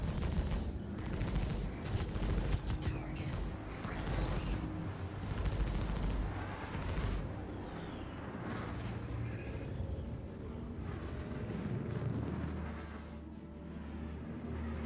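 Gladius spaceships trade gunfire in a Star Citizen PvP dogfight, with dense rapid volleys of shots and rumbling blasts filling the whole stretch at a loud, steady level, with no talking.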